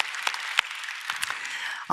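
Applause from a church congregation at a Sunday worship service, a dense even wash of many hands clapping that ends abruptly.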